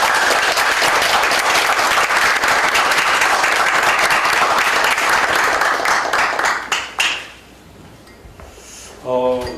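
A large conference audience at a private university presidents' summit claps in thanks for a university president, loud dense applause lasting about seven seconds before tapering off, followed by quieter room sound and a brief musical chime.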